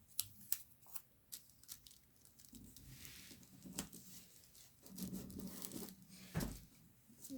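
Cutting material for a bridge model: faint, close snipping and scraping strokes in an irregular rhythm, with soft rustling and tapping between cuts.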